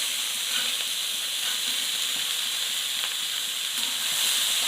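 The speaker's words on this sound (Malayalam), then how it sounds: "വേവിച്ച് വെച്ചിരിക്കുന്ന ഗ്രീൻ പീസ് അതിൽ കൂടെ ഇട്ട് ഇളക്കുക." Cooked green peas being stirred into a hot frying pan, a steady sizzling hiss running throughout with faint scraping of the spoon, close and even, no voices.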